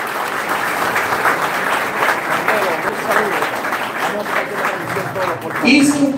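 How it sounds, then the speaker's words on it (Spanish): Audience at a campaign office inauguration in Santo Domingo Oeste gives the candidates a sustained round of applause, dense steady clapping with crowd murmur underneath. "Un fuerte aplauso para nuestros candidatos,"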